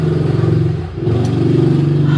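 A motorcycle goes by outside a home garden, its engine a loud, steady droning hum that dips briefly mid-pass before resuming, with no voices over it.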